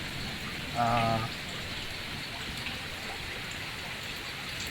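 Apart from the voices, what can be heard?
rain falling in a garden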